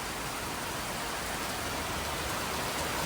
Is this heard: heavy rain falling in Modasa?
yes